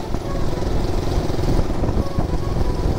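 A Yamaha MT-15 motorcycle is ridden at reduced speed, its engine and road noise forming a loud, steady drone with slight fluctuations throughout.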